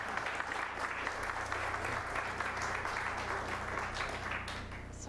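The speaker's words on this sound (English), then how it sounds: "I was going to ask for a round of applause for Jerry" Audience applauding at the close of a talk on locomotives, a steady sustained wash of clapping from a room full of people, moderately distant, with no voices on top.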